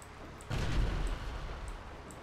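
Electric cannon on a tank in GTA 5 Online fires once, a sudden heavy boom that rolls into a long rumbling decay, close and loud over quiet game ambience.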